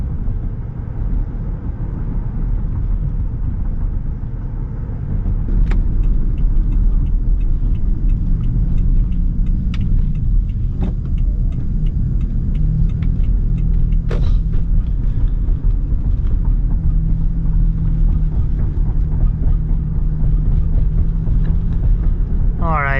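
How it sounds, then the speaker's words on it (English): A 2012 Lexus RX 350 AWD with about 150,000 miles cruising on the road, heard from inside the cabin as a low, steady rumble of engine and tyre noise with occasional faint clicks and bumps. "what it feels like to drive a 2012 Lexus RX 350"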